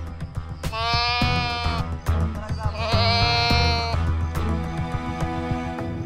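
An injured African farm goat bleats loudly several times in drawn-out, wavering cries, close by, with short pauses between calls and faint background noise.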